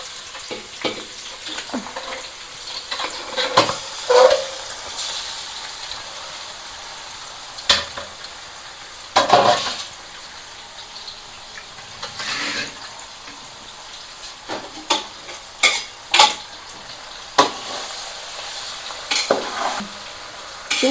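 Fish pieces fry in a pan while being stirred, with soft background sizzling broken by repeated scraping and clattering strokes at irregular intervals.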